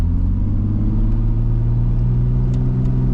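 Turbocharged BMW E36 drift car driving through falling snow, its engine a steady, loud low rumble with strong harmonics that runs continuously close up, with no talk over it.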